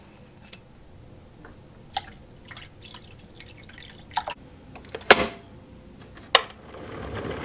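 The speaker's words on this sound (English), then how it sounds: "you pour the hot water through the coffee, and it's kind of its own built-in filter" Hot water trickling and dripping through ground coffee into a mug, heard as a series of soft, separate drips and small splashes spread over several seconds in a quiet room.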